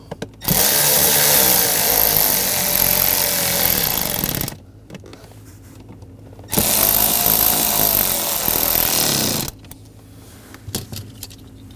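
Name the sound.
bolts tightened on BMW master cylinder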